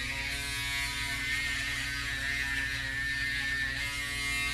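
A steady electric buzz from a beard shaver hums close by at a constant pitch, uninterrupted throughout.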